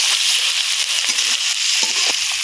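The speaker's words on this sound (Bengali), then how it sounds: "ভাজা ভাজা করে কষিয়ে নিচ্ছে।" Onions and ground spice paste fry in a pan for a spicy duck dish, giving a steady, close, loud sizzle with occasional scraping stir clicks and no speech.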